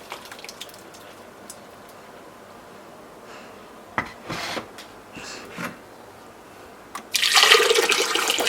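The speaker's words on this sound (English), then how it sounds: "I'm going to pour it into the meat so that they can steam and be properly" Quiet background with a few soft knocks, then a loud splashing pour of a blended mixture into a pot of meat starts near the end and keeps going.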